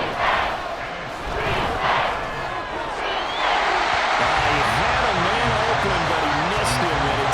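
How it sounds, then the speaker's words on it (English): A stadium crowd at Arrowhead in Madden NFL 24 roars steadily and loudly throughout, swelling midway, while a play-by-play commentator talks over it. "The Arrowhead crowd in full roar."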